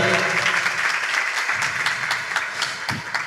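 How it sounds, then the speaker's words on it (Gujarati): Loud, dense applause from a large crowd, a steady wash of many hands clapping together for the whole stretch. "એકવાર જોરદાર તાળીઓના નાદથી આપણે આ સરસ આશીર્વચનને વધાવીએ"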